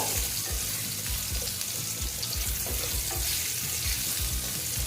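Potatoes stirred as they fry in a pan for a Bengali pui shak dish with sesame, giving a steady close sizzle with repeated soft scraping strokes throughout, no voices.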